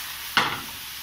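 A single brief scrape of a spatula stirring vegetables and paneer in a pan, with a soft sizzle trailing off afterward; close and fairly quiet, no voices.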